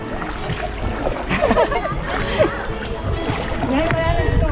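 Kayak paddling on the Jordan River at Kfar Blum, Israel, with steady splashes and sloshing water close by under ongoing talk from the paddlers.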